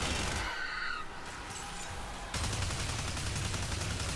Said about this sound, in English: I'm shooting right at them, the shots are going consistently above their head